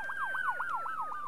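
Ambulance siren in the video game IndieЯ Charge, a rapid wailing yelp sweeping up and down about five times in just over a second, clear and moderately loud over a faint steady tone, with no talking.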